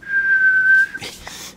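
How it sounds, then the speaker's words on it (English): A child whistles one steady, clear note for just under a second, close and loud, followed by a few brief breathy sounds. "can you whistle?"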